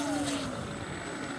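A twin-engine RC model airplane flies past at a distance, its faint motor whine sliding downward in pitch over a brief moment.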